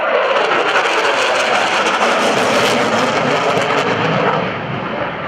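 An F/A-18F Super Hornet roars past in afterburner at an airshow, a loud broad continuous thunder with crackling texture that eases slightly at the end.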